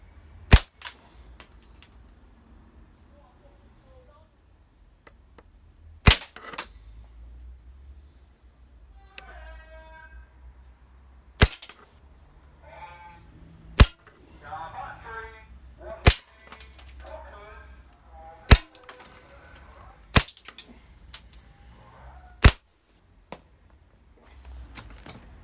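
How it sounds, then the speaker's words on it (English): An airsoft sniper rifle fires about ten sharp, loud single shots spaced several seconds apart, with quiet handling clicks and rustling in between. "we'll fire a couple of shots through it, and we'll chrono it"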